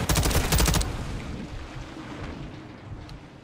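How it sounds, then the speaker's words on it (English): Gunfire in the Modern Warfare II campaign: a loud, dense rattling burst at the start fades into a rumbling wash of distant shooting and echo. "get ready to start shooting"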